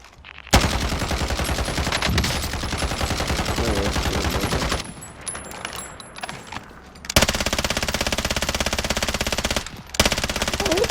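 Sustained automatic machine gun fire in the Call of Duty: Modern Warfare video game, loud and rapid, in long continuous bursts broken by a brief lull before firing resumes.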